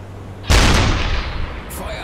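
A submarine deck gun fires a high-explosive shell in the UBOAT game: one loud, sudden blast that breaks over quiet sea ambience and then trails into a long rumbling decay, followed by a fainter second report.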